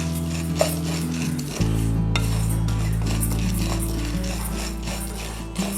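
Urad dal sautéed in a pan while being stirred continuously for a murungai keerai podi, giving a steady low sizzle with soft scraping and rubbing of the spoon against the pan, near and without talk.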